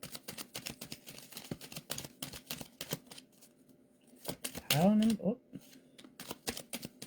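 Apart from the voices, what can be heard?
shuffling a tarot card deck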